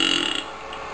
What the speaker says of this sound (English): you have a good burp coming